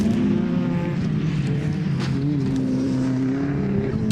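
Rallycross cars racing round a circuit at a BTRDA championship round, engines droning steadily and loudly with shifting pitch as they run through the course, no talk over it.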